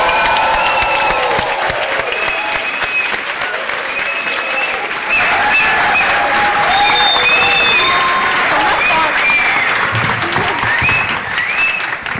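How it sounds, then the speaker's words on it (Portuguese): An audience applauds and cheers for Anitta at the Brazil Conference at Harvard & MIT, with sustained, dense clapping filling the room throughout, alongside some whoops and voices. "Obrigada pelos aplausos."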